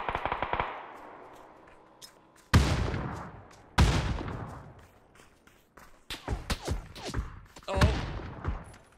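Grenade explosions in a video game shooter: a series of sharp booming blasts and thuds at uneven intervals, some loud and close, others farther off, mixed with bursts of gunfire.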